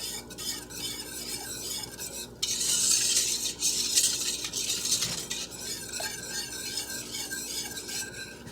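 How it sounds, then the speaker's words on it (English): Whisk stirring a sweetener mixture in a bowl for keto fudge, rapid rhythmic clicking and scraping against the bowl, close and continuous with a louder burst in the middle. "I'm just going to start whisking this all together to help combine the ingredients together"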